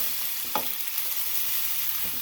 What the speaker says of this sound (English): I'm going to let them kind of like sear frying for like 1 or 2 minutes on each side